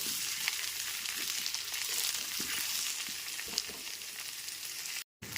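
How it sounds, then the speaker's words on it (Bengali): Potato and pumpkin pieces frying in a pan over a medium gas flame, a soft continuous sizzle with faint stirring taps, quiet and close, ending in a brief cut to silence. "গ্যাসের ফ্লেমটা মিডিয়ামে রেখে আলু আর কুমড়োটাকে একটু সময় নিয়ে ভেজে নেব"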